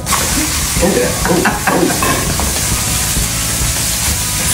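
Ground pork stir-fries in hot oil for Sichuan dan dan noodles, giving a loud continuous sizzle with scraping stirs and a few clatters of the utensil against the pan.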